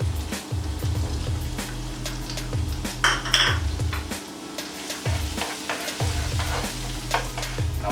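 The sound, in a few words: ginger and garlic frying in hot oil in a pan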